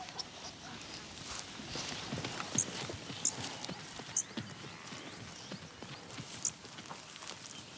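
Burchell's zebra hooves thud and clop irregularly across tall, wet grass, several animals moving at a slow walk in the African bush, with faint high bird calls and a gentle outdoor hiss.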